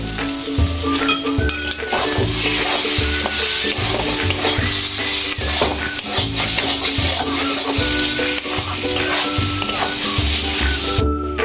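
Mashed banana flower paste stir-fried with sugar in a pan, a loud continuous sizzle broken by rhythmic scraping and stirring strokes against the metal throughout.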